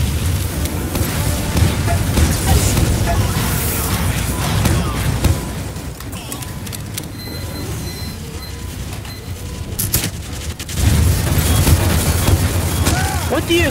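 A bomb explodes in the Madness vs Machines game on the Rust Valley Rodeotron stage, booming dense and loud under a steady wash of game effects, with a brief lull before the heavy rumble surges back.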